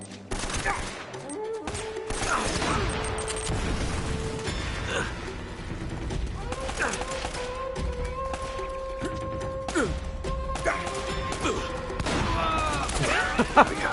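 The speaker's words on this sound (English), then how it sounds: "let's even put this shotgun to use for a bit" Shotgun fire in Uncharted: Drake's Fortune amid a chaotic firefight, with sharp repeated blasts and clattering mechanical sounds over sustained tones and background noise.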